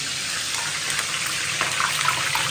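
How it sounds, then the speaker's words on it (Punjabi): Cauliflower pakoras frying in hot oil, a steady bright hissing sizzle with faint crackles, continuous and close with no talk. "ਮੈਡਮ ਤਲ ਰਹੀ ਹੈ ਗੋਭੀ ਆਪਣੀ"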